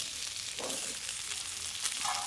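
Potatoes, ridge gourd and lentil dumplings sizzle and crackle steadily in a hot pan, a soft continuous frying hiss with occasional stirring sounds, no talking.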